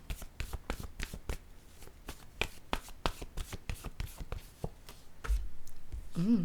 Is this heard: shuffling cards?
yes